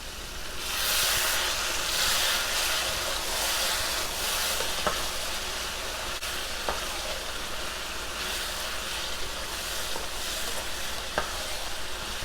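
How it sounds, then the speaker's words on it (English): Fried fish pieces are stirred into a stewed cabbage sauce, giving a steady close hiss and gentle simmering sizzle with a few faint utensil taps throughout. "I'm just going to be adding this fish into that sauce"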